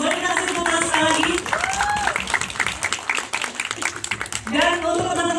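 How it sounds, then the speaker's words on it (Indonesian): An audience at a film screening with the cast and filmmakers of a horror film applauds, sustained dense clapping from a crowd close by, with voices and a rising cheer over it. "Boleh kita kasih tepuk tangan sekali lagi."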